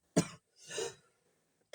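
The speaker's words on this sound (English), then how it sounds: "I have a cough" Two close coughs, a sharp one followed by a softer, breathier one, then silence.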